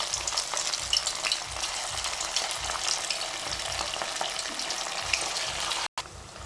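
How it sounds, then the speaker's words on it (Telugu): Chicken pakoda pieces deep fry in oil over a medium gas flame, a dense, even bubbling sizzle that runs throughout at close range, with a momentary cut near the end and no talking. "ఒక్కొక్క పీస్ అలా వేసేసి ఫ్రై చేద్దాం. గ్యాస్ మీడియంలో పెట్టి ఫ్రై చేయండి."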